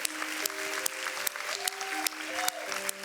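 Audience applause for a young singer on a televised kids' singing show stage, dense and continuous clapping with sharp accents, while sustained musical tones play underneath.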